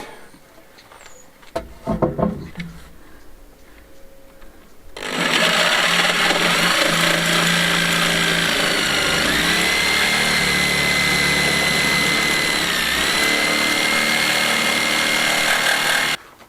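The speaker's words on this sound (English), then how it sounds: "I'm just going to notch it out with the jigsaw, then it should fit" Nearby handling knocks and clatter lead into a jigsaw notching out a piece of wood, its motor starting and then buzzing loud and steady for about eleven seconds before cutting off, with no talking.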